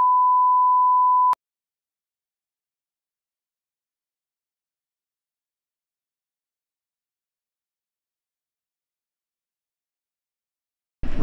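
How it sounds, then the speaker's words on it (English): A GoPro camera emits a single steady electronic tone lasting over a second, cut off sharply, followed by long silence before a brief burst of noise at the end. "Is this beeping? Is my camera beeping?"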